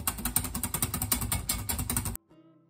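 Fresh cream is whipped into chantilly in a bowl, a fast rhythmic clatter of beating strokes, close and steady, that stops abruptly near the end.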